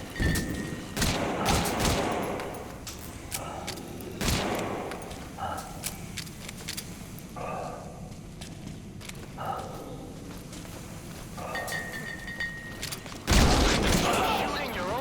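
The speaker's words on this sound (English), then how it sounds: "Shooting your own men." Gunfire in Metal Gear Solid V: The Phantom Pain, sharp separate shots and short bursts spaced every second or two, some loud and close, with footsteps and mechanical clatter between and voices speaking at times.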